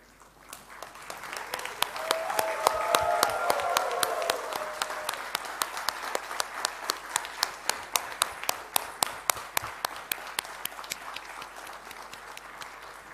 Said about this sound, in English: please stand up and give them a very loud round of applause and the loudest possible cheer